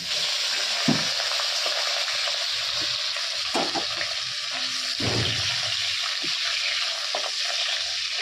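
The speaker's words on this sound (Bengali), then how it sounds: "চিংড়ি মাছের জন্য আমি আলুগুলো আগে একটু ভেজে নেবো হালকা হালকা করে" Potatoes frying lightly in a pan ahead of a prawn dish make a continuous close sizzle, with several brief clinks and scrapes of stirring scattered through it and no voices.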